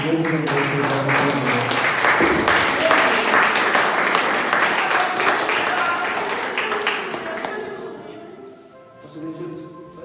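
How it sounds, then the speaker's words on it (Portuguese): Church congregation applauding together, a dense sustained wash of clapping that fades toward the end, with music and a voice underneath. "As palmas mais uma vez."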